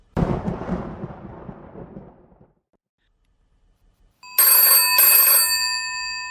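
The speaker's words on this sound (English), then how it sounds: "I answer it, but the bell keeps ringing." An old telephone bell rings loud and close in a single sustained burst after a stretch of silence, following an earlier rumbling noise.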